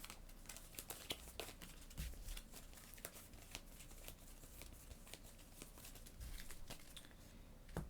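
Cards for the Leviathan Wilds board game are shuffled close by, a soft, crackly run of quick papery flicks and riffles that stays quiet and steady throughout, with no voices.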